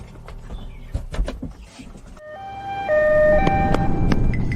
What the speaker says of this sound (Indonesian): Itu pasti ambulans yang membawa ibuku ke rumah sakit.